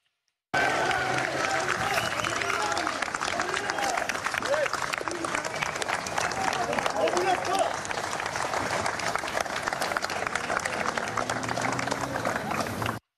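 Police officers applaud colleagues as they arrive, with steady, dense clapping from a crowd continuing throughout, voices mingled in the background.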